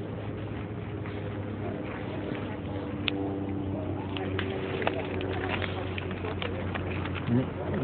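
Pigeons and other birds cooing and calling at a quay on Lake Lucerne as they are fed, with a steady low hum and water-vehicle rumble beneath, scattered bird sounds throughout and people talking nearby.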